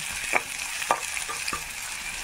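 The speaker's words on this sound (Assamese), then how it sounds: "এইখিনি মই ব্ৰাউন কালাৰ হোৱালৈকে ভাজি ল'ম" Spices and bhut jolokia chillies fry in a pan, a continuous close sizzle with a few light scrapes of stirring, no voices.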